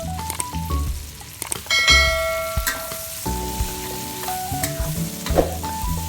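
Onion and garlic sautéing in a pan for pansit canton, a steady sizzle under clinks and rings of a utensil against the pan, with a musical backing playing throughout.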